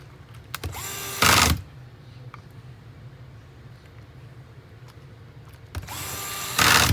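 A small power screwdriver driving screws into the hinges of a Dell Latitude 5420 laptop, two brief whirring bursts near the start and end with faint clicks and handling noises between.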